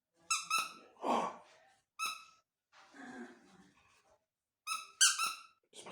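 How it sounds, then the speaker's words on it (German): Squeaky dog toy squeezed several times in a quiet room, giving sharp, bright squeaks in irregular pairs and singles, with softer squeezed-air sounds and a faint breathy noise between them. "das macht Quietschen"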